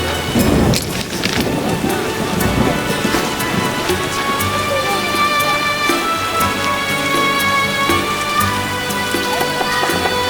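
Thunderstorm in The Witcher, with a loud crack of thunder near the start and then steady heavy rain pattering on surfaces.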